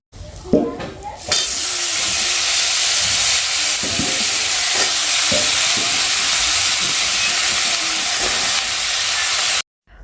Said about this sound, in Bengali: এখন মিষ্টি কুমড়োটা ধুয়ে আমি দিয়ে দেবো কড়াইয়ে